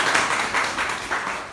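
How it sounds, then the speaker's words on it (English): Brief burst of audience applause at an evening book chat, soft clapping from a modest crowd in a room, steady and moderately loud. "So let's have a round of applause for our boys."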